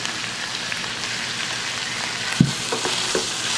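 Bison goulash with cinnamon and spices frying in a pan gives a steady, fairly loud sizzle. Small scrapes and one sharp knock of stirring sound near the end, close by, with no speech.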